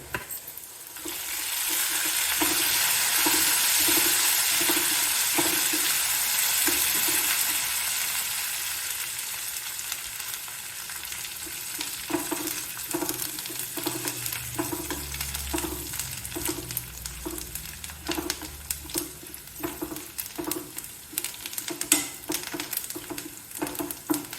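Curry leaves crackle and sizzle in hot oil at first. The noise then settles into a softer frying hiss, with a rhythmic scrape and clink of a spoon stirring the pan near at hand.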